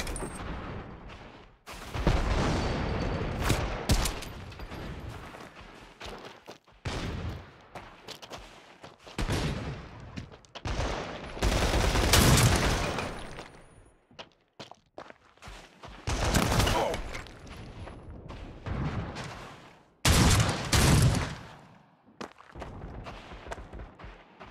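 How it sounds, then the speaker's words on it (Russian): Maxim minigun suppressing fire in the World War Heroes game, a Team Deathmatch on a Normandy map: repeated loud, close bursts of rapid gunfire separated by short gaps, with rumbling booms mixed in. "Подавление огнем."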